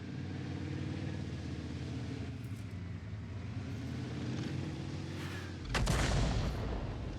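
A T92 self-propelled artillery gun fires in World of Tanks, one deep booming shot over a steady engine rumble, followed by a brief rolling echo.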